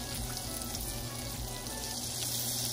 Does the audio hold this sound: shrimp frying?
yes